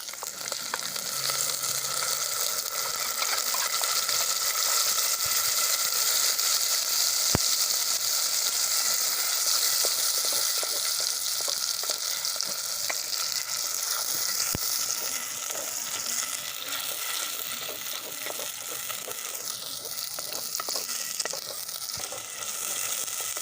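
Onion and tomato gravy sizzles steadily in a pan on a stove, a constant hissing fry with faint stirring scrapes and occasional pops, heard alone and fairly quiet.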